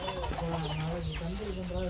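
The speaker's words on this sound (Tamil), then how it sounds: "என்ன காய்ஸ், கோழிலாம் இருக்குது." Chickens on a farm clucking and calling in short repeated notes, close and moderately loud, mixed with a voice talking in Tamil.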